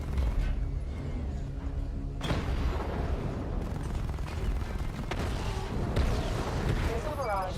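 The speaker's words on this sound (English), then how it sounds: "Destroy targets to charge up weapon energy and activate missile barrage." Missile barrage fired at targets in Batman: Arkham Knight, with a sharp burst and booming impacts over dense mechanical rumble, and crackling explosions recurring throughout.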